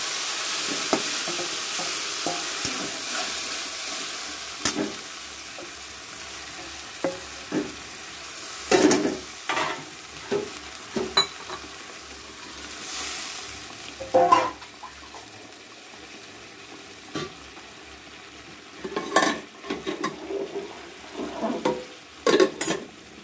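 Spice paste frying with browned onions in a pan for fish and potato curry, a steady close sizzle broken by repeated scraping stirs and occasional clinks of the spoon against the pan.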